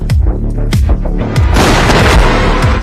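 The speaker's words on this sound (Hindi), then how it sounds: "लेकिन अचानक उस पर बम फेंका गया।" A bomb goes off in an action-film battle scene in Mad Max: Fury Road, a loud rapid series of heavy booms and gunfire-like blasts followed by a dense, roaring burst of explosive noise.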